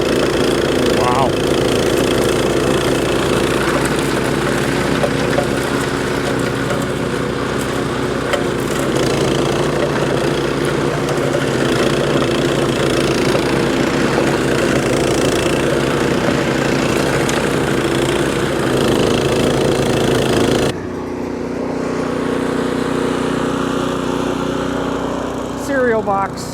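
Briggs and Stratton engine on a snow blower running steadily at a loud, constant drone for about twenty seconds, then the tone drops and thins as the load or distance changes; faint voices may sit underneath.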